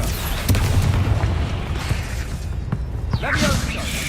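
Confringo fire spell blasting in Hogwarts Legacy, a loud booming burst with crackling debris over a constant rumbling game background, and a voice speaks alongside.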